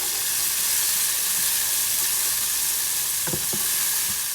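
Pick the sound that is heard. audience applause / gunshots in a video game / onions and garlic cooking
onions and garlic cooking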